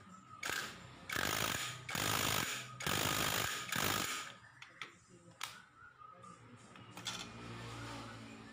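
A power drill boring 2 mm crisscross holes into a Kawasaki Ninja R/RR motorcycle clutch plate, in a run of loud, close whining bursts roughly a second each, then quieter scattered clicks and handling noises.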